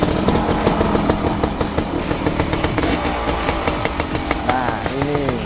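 A 1979 Suzuki A100 motorcycle engine idles close by, a loud, steady, rapid putter with a rough, buzzy edge that stays even throughout and has no talk over it.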